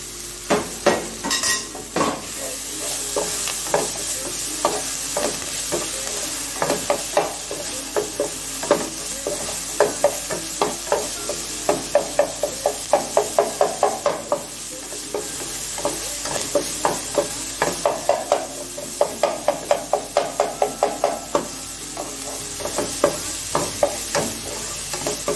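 Mutton blood frying with onions in a pan, a steady sizzle with frequent stirring scrapes and metal utensil clinks in irregular clusters, close and fairly loud throughout, no voices.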